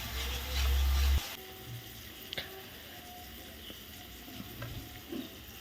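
Fish curry sizzles and bubbles in a pan, with light scraping from a spoon stirring, close and steady after a short burst of low thumping noise at the start.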